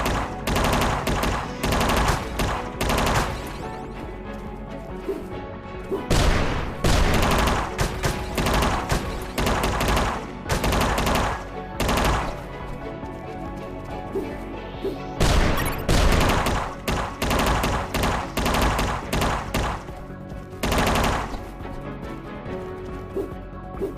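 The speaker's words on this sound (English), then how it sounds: "You destroyed my machine gun!" A boss's machine gun in UnMetal hammers out long, loud rattling bursts broken by short pauses, with booms and crashes mixed into the ongoing firefight.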